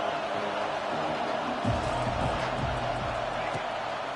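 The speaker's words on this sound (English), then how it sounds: "Here comes the noise from this big crowd in Happy Valley on third down" A big college football stadium crowd in Happy Valley roars on third down, a broad, continuous wall of noise with a broadcaster talking over it.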